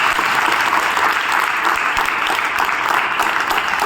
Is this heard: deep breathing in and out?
no